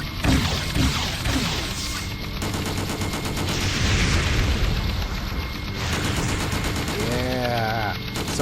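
Heavy gunfire in Just Cause, sustained bursts of close shots mixed with booming impacts and explosions, with a brief voice near the end.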